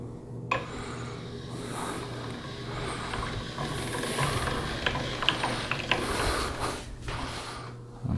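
A hand-cranked pasta machine rolls fettuccine dough at a thin setting, giving a steady ratcheting, geared clicking with a low mechanical hum, close and continuous with small creaks and knocks.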